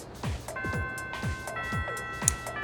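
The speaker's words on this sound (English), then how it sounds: "The first bell has rung." School bell in the video game Persona 3 Reload: a sustained electronic chime rings out over a soft, steady ticking pulse, fairly quiet and with nobody speaking.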